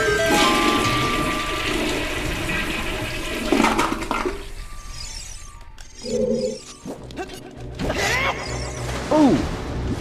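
Rushing, churning water surges as the water level rises in The Legend of Zelda: Ocarina of Time, a loud gushing flow broken by mechanical clunks and game tones.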